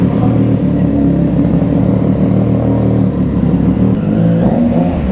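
A Triumph Trident 660 motorcycle fitted with dual sport tires idles loud and close just after starting, its engine rumbling steadily with slight throttle swells throughout.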